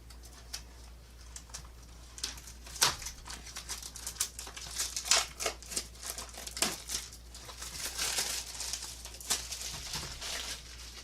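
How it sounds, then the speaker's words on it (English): Plastic wrap is peeled off a boxed Highlander card game with irregular crinkling and crackling bursts, some sharp and loud, others softer, spread across several seconds in an otherwise quiet room. "So I'm going to go ahead and get the plastic off."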